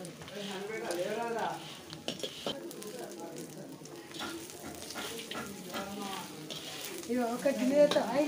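Goat tripe boti frying in oil in a pan, crackling steadily while a spoon stirs and scrapes it at close range, with faint voices in the background.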